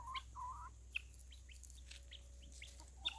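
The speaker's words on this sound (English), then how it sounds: "Now my guineas are coming up." Guinea fowl calling among chickens outdoors: a few sharp chirps and clucks come and go over a low steady background rumble, with short bursts of bird calls spread across the moment.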